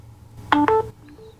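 A phone plugged into a newly installed USB charging port on a 2022 Honda Trail CT125 gives a short two-note electronic charging chime, clear and close, with no talking.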